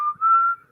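A man whistles a short, sustained tune phrase in a scene from the 1985 horror film Fright Night, one clear steady whistled note alone and close.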